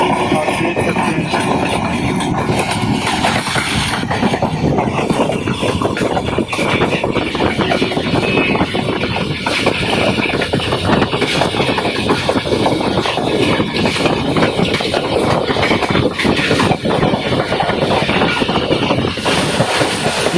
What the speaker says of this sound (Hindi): शोर मचाती रफ्तार के साथ चलती हुई ट्रेन के मनाजिर